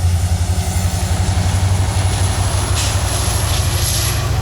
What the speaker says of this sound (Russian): А это электричка, что ли? Какая-то электричка.